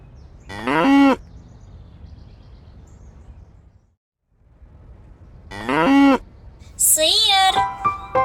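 A cow moos close by, two long, full lowing calls separated by a few seconds of quiet, followed by a higher, wavering call and some lighter chirping at the end.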